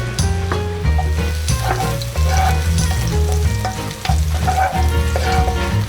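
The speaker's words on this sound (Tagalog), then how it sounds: "Magigisa na tayo. Konting oil lang. Lagay ko na ating bawang." Minced garlic sizzles in a little oil, sautéed as the base for Filipino chicken tinola. The steady, close frying hiss runs through the clip beneath tonal background music, with no talking.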